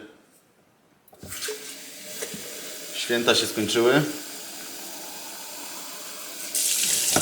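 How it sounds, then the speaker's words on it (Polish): Water runs steadily from a tap or spout into a Thermomix cooking bowl, 700 grams being added, with a person talking over the pouring and a burst of stronger flow near the end. "dolewamy teraz te 700 gram wody"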